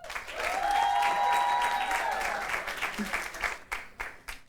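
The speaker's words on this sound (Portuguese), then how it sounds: "Uma grande salva de palmas para todos eles." An audience applauds the winning student teams at the final of a school competition in Macau. Loud, dense clapping swells at once and holds steady, then thins into scattered claps near the end.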